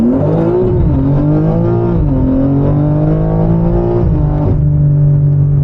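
BMW M4 G82 with an RSA Stage 2 tune (690 hp) pulling hard from inside the cabin, its loud engine note climbing in pitch, dropping sharply at each upshift, then rising again, with a final shift near the end.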